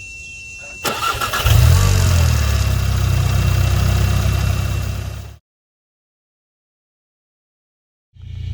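A car engine is started with an Autowit SuperCap2 jump starter: a short crank turns over slightly slowly before the engine catches and runs at a loud, rough idle for several seconds, then stops abruptly, with no talking.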